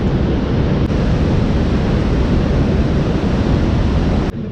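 Waterfall below Victoria Railway Station in Manchester, a loud, unbroken broadband roar of rushing water, close and steady throughout.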